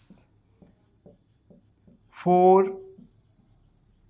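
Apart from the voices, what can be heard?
writing out a math solution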